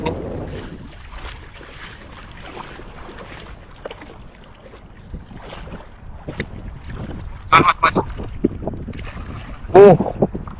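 A motorboat engine drones steadily on a fishing trip, mixed with wind buffeting the microphone and water noise, with brief bursts of louder sound near the end.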